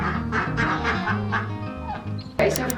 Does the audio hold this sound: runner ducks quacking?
yes